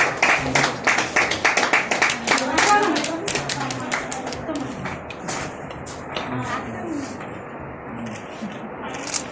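Audience clapping at an awards ceremony in an auditorium, a dense run of claps in the first few seconds that thins out and fades into a murmuring hall with some voices.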